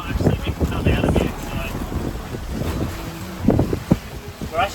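A sailboat heeled in strong wind with its headsail reefed, steady wind and water rush throughout with low thumps and surges of spray, close to the microphone; muffled voices come and go under the noise.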